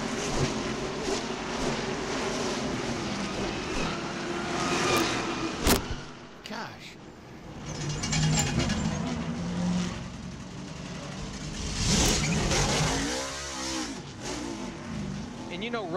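NASCAR stock cars circle the track during a 2008 race, engines roaring past in repeated waves with passing swells and a loud whoosh near the end, commentators talking over them.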